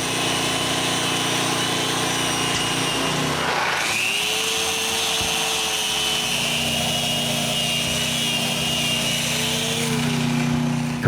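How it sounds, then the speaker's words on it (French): An electric power tool, most likely a sander, runs steadily across cedar boards for a small chalet table, its motor whine dipping in pitch partway through as it bears down, loud and continuous with no speech. "Maintenant, j'utilise le seul outil électrique que j'ai apporté."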